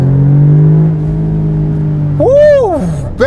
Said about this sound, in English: You hear the sound of the engine will change and the response will change.